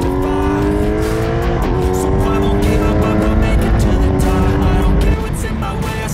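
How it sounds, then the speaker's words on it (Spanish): A boxer-engine motorcycle on a winding Basque coastal road revs high through linked curves, its loud, close engine note climbing and falling in steady harmonic sweeps with wind rush throughout. "Rara vez he llevado el motor del boxer tan alto de vueltas"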